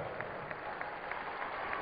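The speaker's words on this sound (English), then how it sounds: "Please, another round of applause for my friends" Audience applause at a dinner, a steady dense patter of many hands clapping throughout, moderately distant and filling the room without pause.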